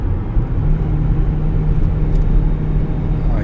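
A Chevy Equinox Premier AWD with a 1.5 turbo engine pulls up a steep hill, giving a loud, steady low engine drone and road rumble from inside the cabin, with no talk.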